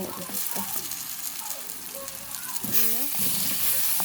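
Tomatoes are added to a Pakistani curry in a hot pan, giving a steady sizzle and crackle with stirring scrapes, while someone talks over it.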